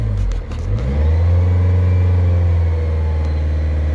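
A car engine held at about 2500 rpm during a diesel particulate filter cleaning procedure, rising quickly from a dip into a loud, steady, close drone with no talking.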